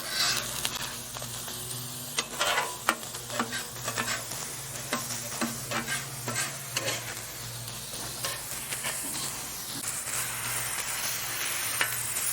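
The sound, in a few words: cabbage sizzling being taken off griddle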